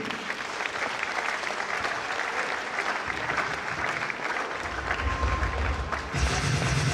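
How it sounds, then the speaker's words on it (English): Sustained audience applause following a talk at a tech event, a dense steady wash of many hands clapping throughout, loud and continuous without any speech. "A round of applause now once again for that wonderful talk"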